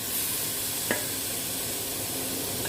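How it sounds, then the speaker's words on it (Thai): Pork is stir-fried in a pan without oil for a Thai pumpkin red curry, giving a steady, close sizzle with one sharp utensil clack partway through. "ก่อนอื่นเราจะผัดหมูดวนหมูให้สุกก่อนนะคะ"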